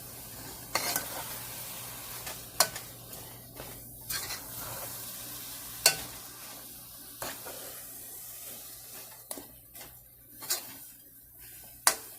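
A milk mixture for coconut chocolate bars cooks down in a pan under a soft steady sizzle, with sharp scrapes and taps of a spoon against the pan recurring every second or two, close and alone.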